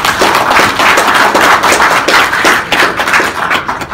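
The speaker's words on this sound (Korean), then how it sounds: "이제 말씀 주신 여러분들과 우상호 의원님께 특별히 감사 박수 한번 보내주시기" An audience at a Korean lecture event breaks into loud, dense applause, many hands clapping continuously and close by with no speech.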